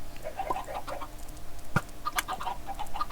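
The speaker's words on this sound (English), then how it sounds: "Chicken farm is still going strong." Chickens on a Minecraft chicken farm cluck in short, scattered bursts at moderate volume, with one brief thump partway through and no speech.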